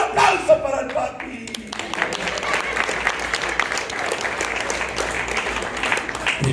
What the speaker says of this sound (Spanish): ¡Un aplauso para el papi!